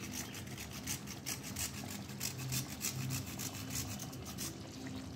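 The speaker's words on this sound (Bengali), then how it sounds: "এইভাবে গ্রেটারের সাহায্যে গুঁড়ো করে করে ওপর দিয়ে ছড়িয়ে দিলাম।" A small piece of nutmeg is grated over a cooked katla fish rezala, giving a steady run of close, rapid scraping strokes with a faint low hum behind them.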